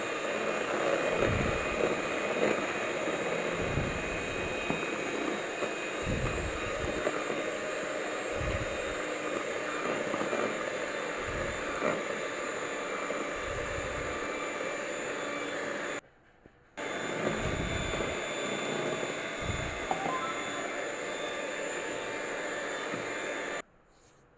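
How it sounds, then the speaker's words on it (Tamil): A mixer grinder running in pulses, blending powdered sugar in a jar for a brownie batter: a loud continuous whirring roar with rhythmic low thumps that cuts out briefly, restarts and then stops at the end. "மிக்சி ஜாரில் அதை தான் கொஞ்சம் கொஞ்சமாக தட்டி இப்போ ப்ளெண்ட் பண்ண போகிறேன்"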